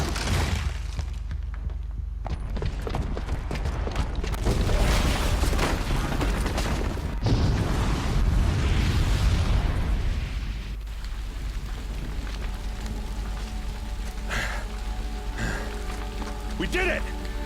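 A bomb booby trap exploding in Horizon Zero Dawn, a loud rumbling blast with crashing debris and a hissing, rain-like roar of falling rubble that fades into lingering noise, with talk over parts of it.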